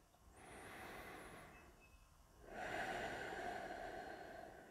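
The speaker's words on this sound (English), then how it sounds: "take three deep breaths in and out" Slow, deep breaths during a yoga flow: a soft, close inhale swelling for a couple of seconds, a brief lull, then a louder, airy exhale, quiet and intimate with no talking.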